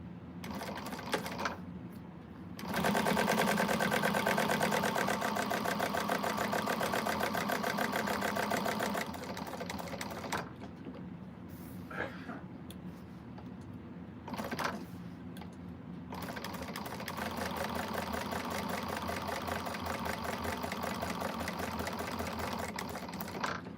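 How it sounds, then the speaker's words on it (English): A sewing machine runs in steady bursts while topstitching a quilted Zodiac Group bag, with a loud continuous stretch followed by shorter runs separated by brief pauses, close and clear. "So let's go ahead and top stitch this out, make it look nice."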